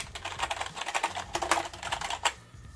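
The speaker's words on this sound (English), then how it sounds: "Here is a quick audio test of the keys." Keys clacking on an AFX FireFighter K01 gaming keyboard, a quick run of closely spaced keystrokes with a few louder hits, near and alone with no talk.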